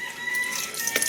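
A rooster crows in a domestic setting, a single drawn-out call rising near the end, heard alone at moderate distance over steady background hiss.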